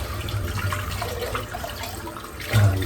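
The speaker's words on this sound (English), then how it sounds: "I'm just going to empty the sink out" Bathroom sink draining out after shaving, water gurgling and trickling steadily nearby, with a brief louder slosh near the end.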